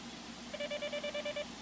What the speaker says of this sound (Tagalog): teka, nagriring ang landline